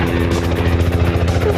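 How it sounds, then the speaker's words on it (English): Helicopter rotors whir steadily in autorotation with the engine disengaged, a loud continuous throbbing drone with a rhythmic beat, heard close up. "the rotors are only spinning because of the air rushing through them as the helicopter falls"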